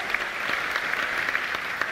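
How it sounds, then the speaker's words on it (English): Audience applause for the finalists at the European Inventor Award 2023 ceremony, a dense, steady wash of many hands clapping at moderate volume, with a few sharper claps popping out. "Can I get a big round of applause for all our finalists?"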